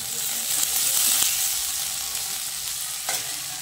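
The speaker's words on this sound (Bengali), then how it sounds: "এবার ফ্রাইড রাইসের সবজিগুলো সব ভেজে নেব একে একে।" Vegetables for fried rice frying in hot oil in a wok, a steady bright sizzle with occasional louder crackles and pops as they are stirred.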